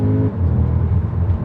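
A 2020 Audi S3 saloon accelerates on a road, shifted with the paddles, giving a steady, close, low engine rumble.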